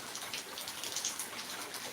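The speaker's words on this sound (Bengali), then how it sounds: "এতটা বৃষ্টি হচ্ছে" Steady rain falling, a fine continuous patter and hiss that stays fairly faint and even throughout, with no voices.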